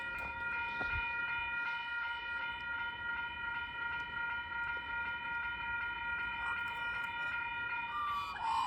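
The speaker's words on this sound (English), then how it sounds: "I don't know what the next train is. It looks to be coming from that direction." A train nears Wondabyne station, a sustained high tonal whine and rumble holding steady throughout and swelling slightly toward the end, moderately loud with no talk.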